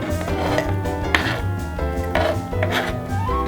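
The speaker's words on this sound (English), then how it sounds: "Now we're gonna go some chopped onion." A knife chops onion on a cutting board for a homemade salad dressing, with crisp, close, repeated strikes over quiet background music.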